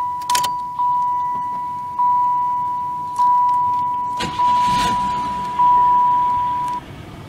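Cold start of a 1996 Oldsmobile Cutlass Supreme with 86,487 miles: a repeating electronic warning chime pulses throughout, a brief loud burst of cranking and catching comes midway, and a low, quieter idle follows at the end.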